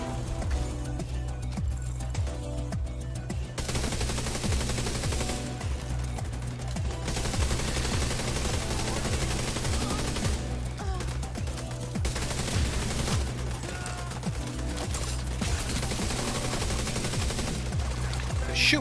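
Enemy gunfire from The Division, a video game, rattles in dense bursts of automatic fire throughout, layered over a steady synth music bed with no gaps of quiet.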